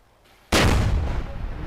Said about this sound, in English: I'm gonna show you what an explosion sounds like